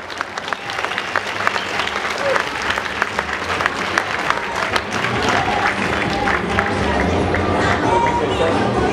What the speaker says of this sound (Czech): takže ještě jednou potlesk pro Marcela Oravce!